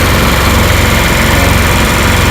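A Rigmaster APU engine with a newly replaced alternator runs loud and close, a steady rapid chugging drone with no voices over it.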